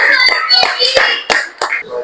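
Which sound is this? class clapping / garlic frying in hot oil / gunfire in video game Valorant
class clapping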